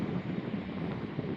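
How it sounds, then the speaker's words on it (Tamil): Wind gusts across an island seashore, a rough, buffeting rumble hitting the microphone in uneven pulses, close and fairly loud, with no talking. "காற்று அங்கே இந்த வருது. சரியா நெருப்பு காற்று தான்."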